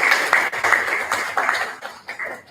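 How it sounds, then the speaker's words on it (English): Applause from a lecture audience in a hall, a moderate patter of clapping hands with a few distinct sharper claps, steady then thinning toward the end. "Mrs. Acharya, please give her a round of applause"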